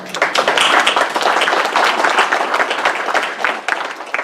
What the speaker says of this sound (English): So maybe a round of applause.